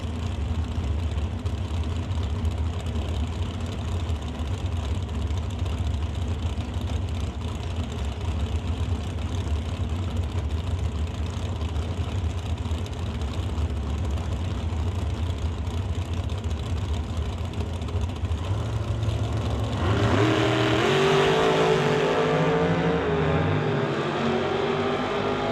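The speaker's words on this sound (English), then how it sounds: "Both dragsters away to the top end." Two drag racing dragsters, one a Pro Mod Camaro, launching and accelerating hard down the strip, a steady heavy engine roar with a sharp rise in intensity near the end, no voices.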